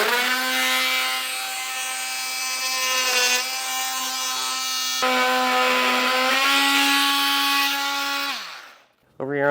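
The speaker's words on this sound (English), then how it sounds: "So I like to use a multi-tool just for a cleaner cut." An oscillating multi-tool cuts through brittle plastic fins on a 2021 Ford Escape, a loud, steady buzzing drone that wavers in pitch and runs for about eight seconds before cutting off abruptly.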